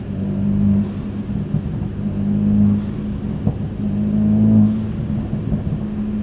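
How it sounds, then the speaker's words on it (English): Turbo blow-off valve on a Ford Focus RS hot hatch with an aftermarket exhaust, heard from inside the cabin as short airy hisses over a rising and falling engine drone. "You can hear the blow-off valve going off."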